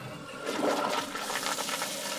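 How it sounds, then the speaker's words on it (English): A toilet flushing nearby, a sustained rushing, gurgling swirl of water that swells after a brief start and keeps draining steadily without voices. "we'll give her the first flush"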